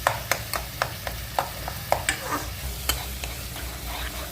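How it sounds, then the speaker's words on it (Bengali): Ground coriander and spices being stirred and sautéed in hot oil in a pan while cooking palak paneer, with a steady soft sizzle and repeated sharp spatula scrapes and clinks against the pan, close and alone. "ধনে গুঁড়ো, ভালো করে কষতে হবে যাতে নরম এবং গলে যায় ওটা।"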